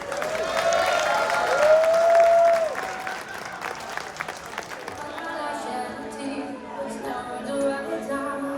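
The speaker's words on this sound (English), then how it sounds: "So please give a round of applause for Lori McDonald" Applause from a live show audience rises strongly at first and then fades, with a voice speaking over the thinning clapping.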